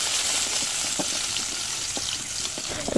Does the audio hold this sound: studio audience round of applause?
no